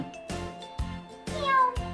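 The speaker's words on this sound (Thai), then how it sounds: "แมว" A cat meows four times in an even rhythm, each call short and clear, with a faint tinkle in the background.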